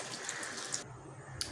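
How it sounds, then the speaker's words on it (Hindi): Water pours from a tap into a pot of fried lentils for dal in a home kitchen, a steady close splashing stream that cuts off partway and briefly resumes at the end. "तो दाल में जी बस पानी डाल के अभी मैं गलने के लिए रख दूंगी"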